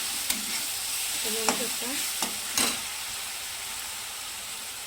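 A paste of green chilli, coriander and garlic fries in a pan with a constant sizzle and several sharp scraping stirs. A short spoken phrase comes in briefly over the frying.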